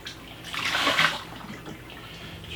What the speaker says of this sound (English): just rinsing up my cutting board, and the potatoes I'm going to wash off